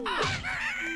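A bird in the Banjo-Kazooie video game gives a harsh, crow-like caw that stretches into a drawn-out call, loud and close with no talk over it.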